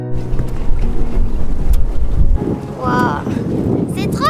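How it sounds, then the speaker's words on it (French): A ferry crossing from São Jacinto to Aveiro rumbles with a low engine drone under gusty wind buffeting, while voices talk nearby partway through. "Nous attendons pour prendre le ferry pour traverser de la réserve naturelle de São Jacinto à Aveiro."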